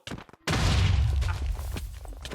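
A sudden loud bomb blast in a video game erupts after a brief quiet moment, followed by a rumbling, crackling decay.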